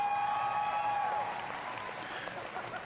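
A large live audience at a video game conference roars and applauds, a dense wash of cheering that swells early and stays steady, with a sustained tone ringing over the start.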